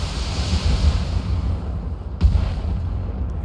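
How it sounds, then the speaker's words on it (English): An ammunition explosion destroys a mech in the game BattleTech: rumbling low booms and roars with a sharper blast near the end, heavy and thunderous over continuous low-frequency rumble. "Oh, ammo explosion, that'll do it."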